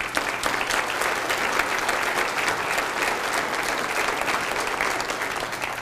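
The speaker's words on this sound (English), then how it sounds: "So please, please give yourselves a round of applause." Parents and grandparents at a school district event fill the room with loud, continuous applause, an even, dense roar of many hands lasting around six seconds.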